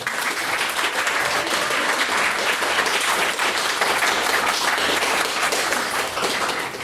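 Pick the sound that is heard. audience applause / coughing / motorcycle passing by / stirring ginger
audience applause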